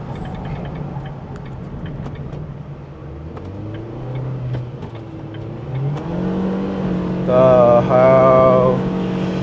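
A Proton Saga Premium CVT engine strains uphill on the Genting climb, droning steadily as the pitch rises and falls with the revs, then swells louder near the end.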